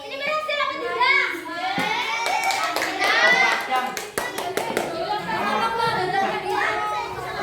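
A group of children claps in a classroom, with bursts of scattered, sharp hand claps among lively chatter and kids' voices.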